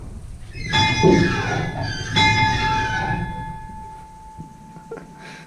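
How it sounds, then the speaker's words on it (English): A locomotive bell clangs twice, about a second apart, each strike ringing on with a long metallic tone that slowly fades. "You're allowed to ring the bell."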